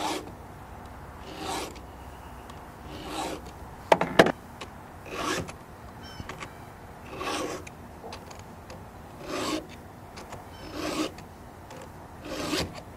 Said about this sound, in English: this has been a real good tool for sharpening these saws